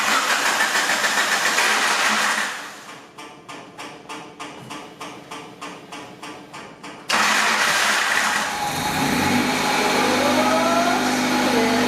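A Honda CRX engine cranks with a rapid, even starter whir of about a dozen pulses, then catches and settles into a loud steady idle with a rising rev.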